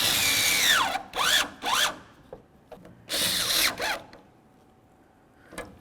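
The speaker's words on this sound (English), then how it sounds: "Okay, let's screw it in." Power drill driving a screw into a taillight on a 2002–2008 Dodge RAM 1500, several short whirring bursts with rising and falling pitch, separated by quiet gaps, close and loud.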